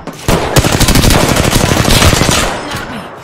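Rapid automatic gunfire from a video game, dense bursts of shots rattling continuously for about three seconds, loud and close with no talk over it.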